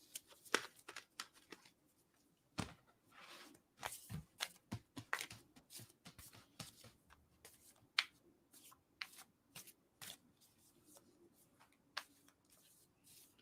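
Tarot cards being shuffled by hand, heard as irregular bursts of crisp riffling and slapping that come close and fairly quiet, separated by short pauses, with no speech.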